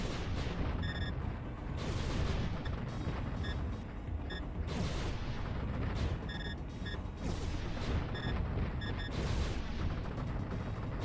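Enemy gunfire in a Sega Saturn rail shooter game, with repeated booming blasts and dense rattling shots over a constant roar, plus short electronic beeps, no speech.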